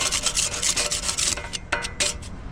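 A hand scraper rasps over old hardened concrete softened by concrete dissolver, producing repeated close, loud scraping strokes in a quick uneven rhythm, with no talking.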